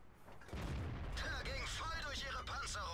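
A World of Tanks tank cannon fires once with a deep, loud boom, followed by rumbling battle noise, while someone talks over it.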